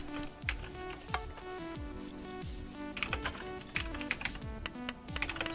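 Rapid keystrokes on a computer keyboard entering a Ruby command and a server restart, irregular clicks close up over steady background tones with faint music.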